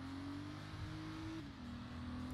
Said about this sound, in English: By braking, hand braking, and flooring it.